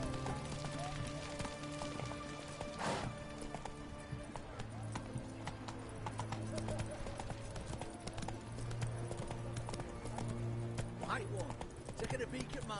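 In the video game Witcher 3, a horse's hooves clip-clop at a steady trot under ambient game sound, with occasional character voices over the rhythmic clatter.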